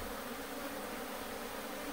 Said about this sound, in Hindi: मधुमक्खी खुद बॉक्स के अंदर जा रही है